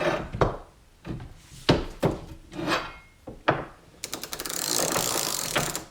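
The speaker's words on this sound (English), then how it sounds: "now we'll go ahead and get the PowerBuilt up to about 185 foot-pounds" A PowerBuilt ratchet is torqued by hand toward about 185 foot-pounds, giving a series of sharp, close clicks and clunks, then a rapid run of ratcheting clicks.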